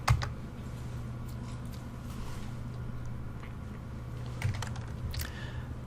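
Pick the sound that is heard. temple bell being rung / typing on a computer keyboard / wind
typing on a computer keyboard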